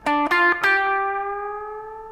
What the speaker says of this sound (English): the basic idea is you're going to take this note and you're going to bend it until it sounds like this note